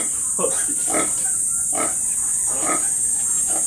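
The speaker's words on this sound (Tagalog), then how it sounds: "Baboy yan. Yun yung baboy." A nearby pig gives a run of loud, rough grunts and oinks at an uneven pace. Light human voices may sit faintly underneath.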